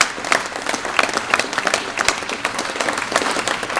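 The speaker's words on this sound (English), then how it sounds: "I think they themselves deserve a round of applause" A crowd at a Darlington general election declaration applauds the council staff, with brisk, crisp clapping and individual hand claps standing out as a steady, lively burst.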